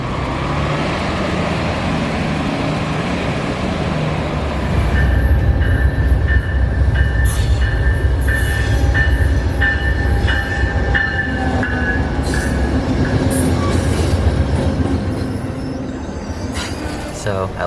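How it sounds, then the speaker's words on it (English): A train runs down the middle of the street in Jack London Square, Oakland, rumbling loudly with squealing wheels, clicking rail joints and high metallic screeches, the roar building midway and then easing off. "the place with trains running down the middle of the street"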